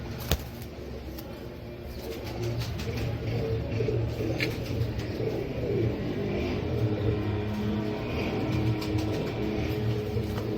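Fancy pigeons in a loft coo in soft, low, repeated murmurs against a constant background drone, with faint clicks and rustles nearby and no talk.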